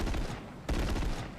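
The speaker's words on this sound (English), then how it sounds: "This has got rockets, and it looks like that fires, I want to say, twice the amount of rockets that a Hornet does." Rockets from a Halo Wars unit in a Halo MCC mod fire in two dense, rapid bursts, a loud crackling volley with a brief dip between them.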